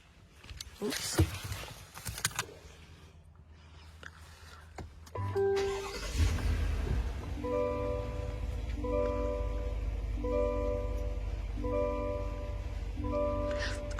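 A 2021 Cadillac Escalade starts up with a brief crank and settles into a quiet, smooth idle, followed by a repeating chime tone, after some soft handling noises and faint talk.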